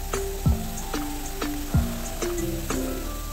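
Green chilies and tomatoes sautéing in oil with spices for a fish curry, steady sizzling under periodic stirring strokes with scraping and dull knocks, close.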